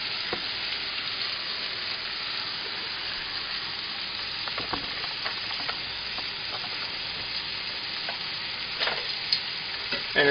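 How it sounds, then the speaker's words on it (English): Moose meat and onions fry in a pot with a steady close sizzle and hiss, a few sharp crackles and pops scattered through, and no talking. "our meat here, as it cooks up, you see it's going caramelized quite quickly"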